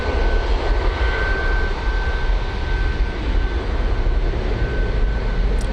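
A Jet2 airliner taxis along a taxiway at Manchester Airport, its jet engines giving a loud, steady roar and whine that holds throughout without a break.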